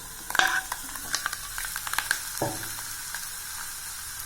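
Eggs fry in a pan for Tamil egg varuval, giving a steady sizzle with scattered crackles and a few sharp scraping clicks from stirring, close and continuous with no talking.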